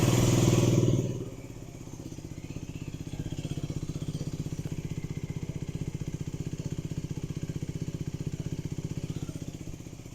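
A Mondial HPS125 motorcycle engine idles steadily at close range with a fast, even putter, running alone after a louder opening burst, while being checked for exhaust gas leaks.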